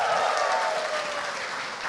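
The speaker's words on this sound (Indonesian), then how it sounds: "Sekali lagi boleh tepuk tangan buat Arif Brata." Audience at an Indonesian stand-up comedy show breaks into full, dense clapping that holds steady for the whole two seconds.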